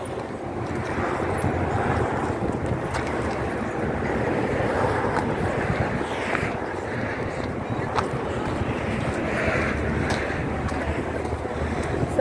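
Steady rushing sea breeze at the seaside buffets the microphone in a continuous broadband roar, with faint surf-like wash beneath and no clear voices.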